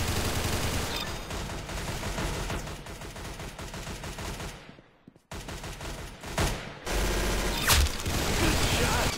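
Gunfire in a shooting video game: dense, loud bursts of rapid automatic fire and single shots fill most of the stretch, cutting out for a brief near-silent gap midway before resuming just as intensely.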